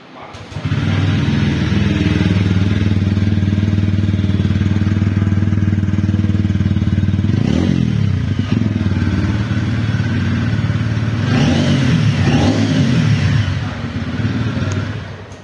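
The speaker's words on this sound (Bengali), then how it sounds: "আমি একবার বাইকটা অন করছি" A TVS Ronin 225 motorcycle engine is started and settles into a loud, steady idle close by, with a sharp rev blip around the middle and a couple more throttle blips near the end, no talk over it.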